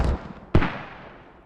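A single sharp mortar blast fires from cannons in a multiplayer war game, a short boom followed by a fading rumble, preceded by a softer muffled thump.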